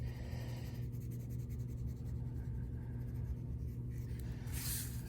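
Graphite pencil shading on paper while drawing an eye, a steady close scratchy rasp of repeated strokes running continuously throughout, with no talk.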